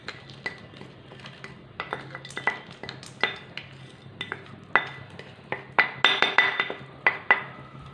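Roasted cashews, coconut bits and fried gram are stirred into thick jaggery syrup in a pan, producing irregular metal scrapes and clinks of a spoon against the vessel, growing busier and louder toward the end.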